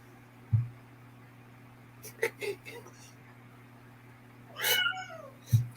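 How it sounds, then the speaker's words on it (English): A cat meows a few times indoors during a casual evening video chat, with short voiced cries at the start and end and people talking in between. "That cat's gonna jump up on the cameraman and start arguing with me."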